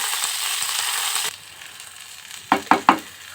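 Rice for basanti pulao fries in a hot pan with a steady hiss, which drops away and is followed by three sharp stirring knocks near the end.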